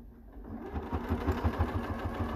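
A sewing machine stitching a seam on a padded book sleeve, a close, steady rapid mechanical chatter that speeds up into an even hum and runs without pause, no voices.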